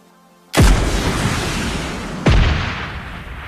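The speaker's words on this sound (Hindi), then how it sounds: "जिसे भाई मेरा टीममेट उड़ा देता है RPG से।" RPG rocket explosions in PUBG Mobile Lite, two loud close booms about two seconds apart, each with a long rumbling decay.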